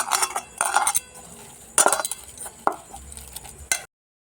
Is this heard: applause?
no